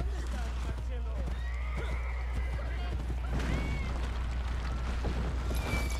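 A horse neighs and whinnies with shrill, wavering calls, mixed with hoof clatter and game sound effects from Assassin's Creed Brotherhood while someone talks over it.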